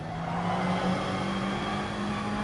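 A Gran Turismo GR4 race car at Autopolis holds a steady, loud engine drone under acceleration, a continuous even whine with no voices.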